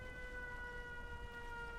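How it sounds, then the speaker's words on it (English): A steady electronic siren in Fallout 4, the Jamaica Plain alarm, holds a sustained multi-tone wail with no rise or fall, set over a low rumbling game background for the whole stretch. "And now the siren goes off."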